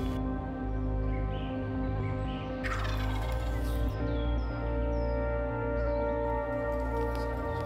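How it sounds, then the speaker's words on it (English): Wild turkeys gobble in rippling bursts during a spring turkey hunt in Wisconsin, one loud call rising sharply midway, over steady outdoor background noise. "We got birds gobbling."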